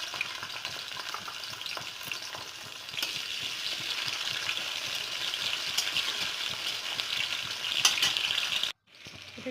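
Potatoes fry in a pan until brown, giving a steady close sizzle with occasional stirring clatter, loud and continuous before cutting off abruptly near the end, with no talking.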